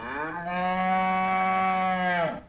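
A cow lets out one long, loud, steady moo that swells and then fades, heard alone and close against a quiet background.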